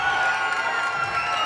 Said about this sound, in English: Crowd loved that one.